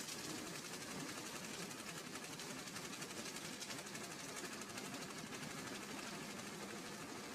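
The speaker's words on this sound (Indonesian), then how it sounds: "dimasukkan ke mesin pemilah sampah" A waste sorting machine processes organic rubbish that has already been separated from metal, wood and glass. It gives off a continuous mechanical rattling and droning hum, steady and fairly faint, with no voices.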